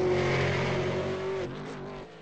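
A Red Bull Racing Holden Commodore V8 race car engine in a racing game, a loud sustained drone holding steady pitch, then easing off and fading slightly near the end, with no talk.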